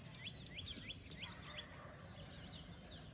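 Sparrows chirping at sunrise, a rapid string of bright, thin chirps repeating at a moderate distance over a steady low outdoor hum.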